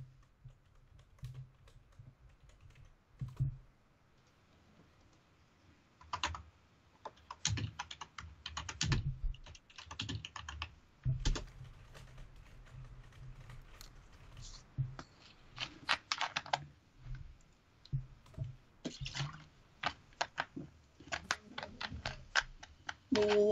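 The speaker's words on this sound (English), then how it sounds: "What are you typing?" Typing on a computer keyboard during a Club Penguin game session, with irregular bursts of close, clicky keystrokes that start sparse and grow faster and denser.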